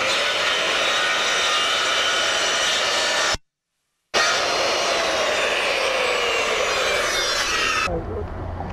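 A power saw cuts through a wooden fascia board, whining loud and close in a sustained roar that breaks off briefly, then runs again and winds down at the end.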